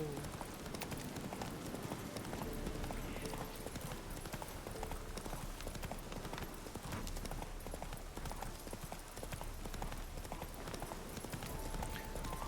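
Steady clip-clop of horse hooves at a trotting rhythm, continuous and fairly close, over a busy game soundscape in The Witcher 3: Hearts of Stone.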